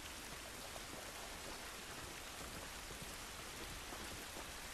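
Rain falls in the video game The Last of Us, a steady, dense patter on surfaces that continues evenly without pause and without speech.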